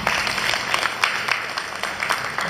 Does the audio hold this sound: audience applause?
yes